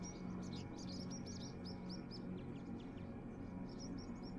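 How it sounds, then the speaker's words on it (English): Birds chirp in the video game AER: Memories of Old, rapid high tweets repeating in bursts over a steady low ambient drone, faint and somewhat distant. "I'm hearing bird sounds, I'm not seeing birds."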